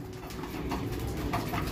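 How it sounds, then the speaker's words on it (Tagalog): A large young racing pigeon gives soft, close cooing against a steady low murmur, with no one talking. "bumaba na yung isang ibon na bagong akyat oh"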